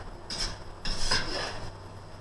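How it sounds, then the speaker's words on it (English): A spoon stirs white bean chicken chili in a pot, giving two or three quiet scraping strokes with a faint clink against the side. "And then we're just going to stir that up a little bit."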